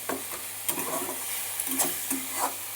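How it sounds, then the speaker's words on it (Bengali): A spoon scraping and stirring a vegetable mash (bhorta) in a hot pan as it cooks dry, with steady sizzling and repeated close scrapes and knocks, loud and with no talk. "এবার ভালোভাবে সমানে নাড়তে হবে নেড়ে নেড়ে পুরো শুকাতে হবে"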